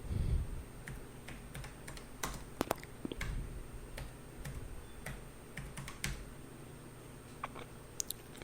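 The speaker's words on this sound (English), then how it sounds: "I'm pecking at the keyboard." Keys on a computer keyboard are pecked at quietly, giving sparse, irregular clicks with short pauses between them against a faint hum, with no talking.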